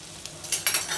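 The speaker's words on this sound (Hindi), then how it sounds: "प्याज को डाल दिया और इसको हल्का सा भाज लेते हैं।" Onion frying in oil in a kadhai, a soft hiss that swells into a few bright bursts of sizzle over a second, close and alone.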